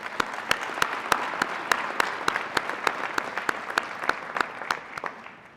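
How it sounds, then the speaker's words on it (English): Applause for faculty and staff at a winter university commencement ceremony: a steady patter of many hands with sharper individual claps standing out, moderately distant and fading toward the end. "Please join me in giving them a round of applause"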